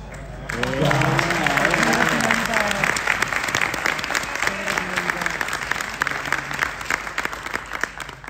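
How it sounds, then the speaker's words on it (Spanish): Loud, sustained applause from a large audience at a live stage show in Talca, with dense clapping and cheering filling the whole stretch while voices call out over it. "Un aplauso grande para Paulus Hansen"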